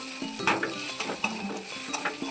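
Ground cumin, garam masala, chilli powder, salt and turmeric frying together in a pan, a soft continuous sizzle under repeated close scraping stirs of a spatula, with no talk.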